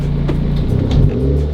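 Mazda 3 engine revving after a throttle body ground modification, a close steady low rumble with brief surges, no talk.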